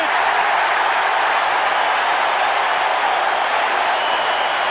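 A large football stadium crowd at a 1985 Chicago Bears vs 49ers NFL game roars in a loud, sustained wash of cheering and noise that holds steady throughout.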